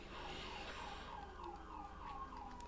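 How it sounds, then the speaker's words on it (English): A faint, distant siren wails, its pitch rising and falling in steady cycles against low traffic rumble. "I hear sirens."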